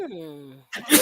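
A single sharp sneeze bursts out right after a stretch of talking, loud and close, with a breathy explosive rush.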